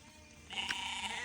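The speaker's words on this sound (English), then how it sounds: "So here's all the sheep, all the lambs right here." Sheep and lambs bleat in a pen during ram lamb weaning, a single wavering bleat rising mid-clip over a quiet farm background, fairly close and moderately loud, with no talking.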